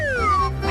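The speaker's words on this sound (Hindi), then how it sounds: "इधर बैठो प्यारी बिल्ली।" A single short, close cat meow rises and falls in pitch, clear and alone.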